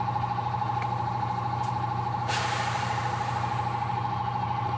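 An electric fan motor runs steadily at speed setting 3, giving a continuous even hum and whir with a faint mechanical tone, close and alone, with a few small clicks.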